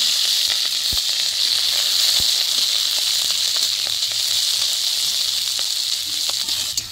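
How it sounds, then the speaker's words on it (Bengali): Bay leaf and dried chillies fry in hot oil for a vegetarian cabbage curry. A loud, steady, close sizzle hisses without pause, with a few faint clicks and pops. "তেজপাতা, শুকনো লঙ্কা হালকা করে ভেজে নিব।"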